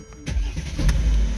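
A 2014 Mercedes E350 engine cranks and catches, then settles into a low, steady idle with a brief rise, close and loud after a quiet start.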